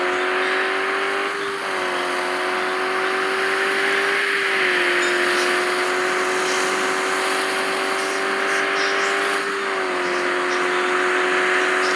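A BMW in a racing video game held at full throttle, its engine droning in a loud, steady high whine with slight pitch dips, continuous and close with no talk over it.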